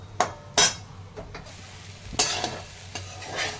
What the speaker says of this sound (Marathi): मी हे भिजून घेतलेले मुरमुऱ्या ह्या टाकून घेत आहे. आणि छान मिक्स करून घ्यायचं.